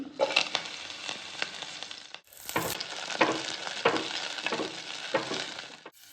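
Green chillies and curry leaves hit hot oil for a veg biryani, popping and crackling in a loud, busy sizzle with sharp spits, pausing briefly midway before resuming.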